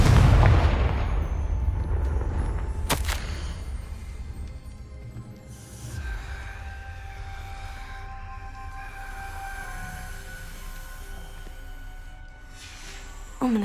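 Blasting-spell explosions in Hogwarts Legacy, a loud booming burst at the start that fades into a long rumbling tail, with a sharp crack near three seconds and softer resonant tones afterward.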